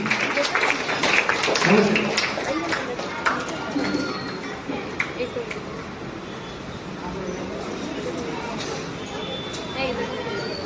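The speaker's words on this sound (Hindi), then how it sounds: "तालियों की आवाज रुकनी नहीं चाहिए" An audience at a dance academy event applauds, loud dense clapping at first that thins and softens, with crowd chatter and voices mixed in throughout.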